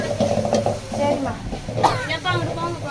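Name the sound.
stirring and sizzling in a pan while cooking pepper rasam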